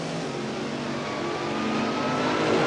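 Two 1977 NHRA sportsman drag cars launch side by side off the line, a dense, rising engine roar that builds steadily in loudness over a few seconds.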